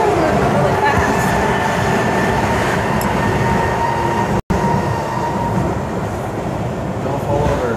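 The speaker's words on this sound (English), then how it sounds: "The metro's gonna move really fast." Miami Metro train running at speed, a loud, steady rumble of wheels on rails with faint squeals, heard from inside the car while people talk.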